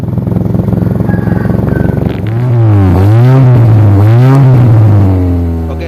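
A modified Honda Grand Civic with an aftermarket HKS muffler idles with a loud, close, throbbing rumble, then revs up and down through several rising and falling swells.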